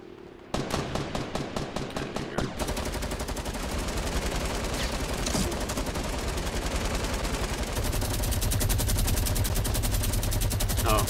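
Minigun fire in the video game Fortnite, a sustained, rapid, dense stream of shots after a few spaced opening rounds, loud and continuous without a break.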